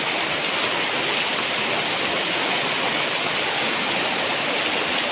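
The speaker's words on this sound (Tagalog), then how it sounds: "At ang lakas talaga ng ulan, ayaw talagang magpaawat." Heavy rain pouring down steadily during sudden flooding, a dense, continuous roar of water with no breaks, loud and enveloping throughout.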